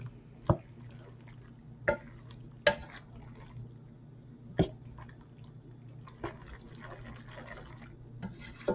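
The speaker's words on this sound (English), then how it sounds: "I'm just going to get the wooden spoon that I used for the pasta, and I'm just going to stir it all up." A wooden spoon stirs maple curry chicken penne in a pot, giving a few sparse, faint knocks and scrapes against the pot at irregular intervals over a low background hum.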